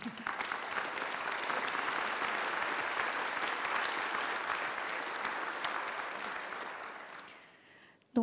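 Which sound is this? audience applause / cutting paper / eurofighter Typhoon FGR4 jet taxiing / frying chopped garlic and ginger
audience applause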